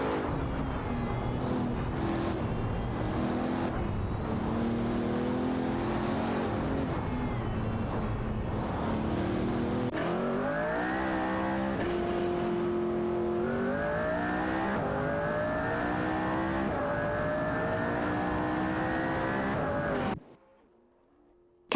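Race car engines from an AI racing video game, including a Pagani Zonda F, drone and rev continuously with rising and falling pitch as cars accelerate and shift, loud and unbroken until an abrupt cutoff near the end.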